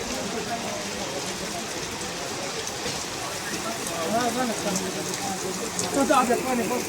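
Heavy rain pours down steadily on a muddy village bullock cart race ground in Satara, a dense hiss of drops hitting the surface throughout that grows a little louder toward the end.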